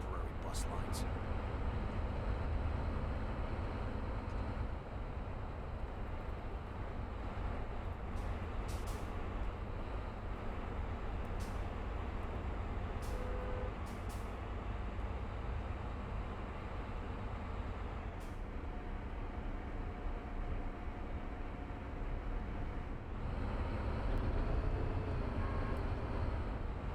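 In the Bus Simulator 2027 video game, a bus engine rumbles steadily and continuously for the whole stretch, with a low droning tone and a few brief faint clicks scattered over it.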